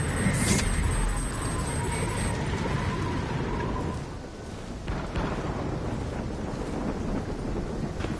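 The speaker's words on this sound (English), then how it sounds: "Incoming superstorm too strong." A game superstorm roars with heavy wind and deep rumbling thunder. A steady loud rush carries a brief high warning beep pattern early on and swells again after a short dip.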